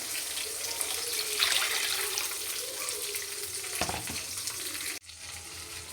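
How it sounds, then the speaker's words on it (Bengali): Water is poured into a pan of fried fish and spices to make a curry gravy, producing a running splash over hot sizzling that cuts off sharply near the end, followed by a quieter bubbling. "এখন এর মধ্যে ঝোল দিয়ে দিচ্ছি"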